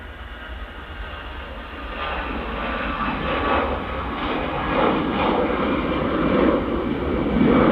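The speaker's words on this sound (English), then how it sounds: "Next departure's a EasyJet off to Geneva, A320." An EasyJet Airbus A320 departs Manchester Airport, its engines a broad, steady roar that swells gradually and stays loud and continuous, with no voices.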